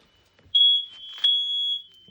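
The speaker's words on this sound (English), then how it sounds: "we had a little fire alarm there" A smoke detector fire alarm gives two shrill electronic beeps, the first longer, fairly close in a quiet room.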